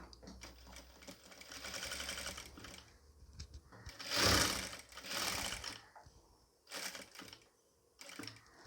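A sewing machine stitches nighty fabric in short separate bursts, fairly quiet, with pauses and faint handling noises between runs.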